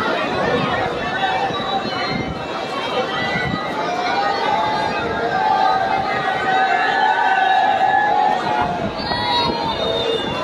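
A large crowd at a rally in Alexandria, Egypt, fills the air with a dense, continuous roar of voices and chanting, loud and unbroken, with flags waving and a commentator talking over it.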